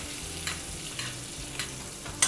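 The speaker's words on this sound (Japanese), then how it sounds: "このバターの油をですねお肉に回しかけて" Steak sizzling in a pan while melted butter is spooned over it, a steady close crackle with brief louder spatters and a small clatter at the end.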